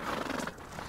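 A horse whinnies in the farming game Farm Together, one short, fairly quiet neigh with a breathy, wavering tone and no talk over it.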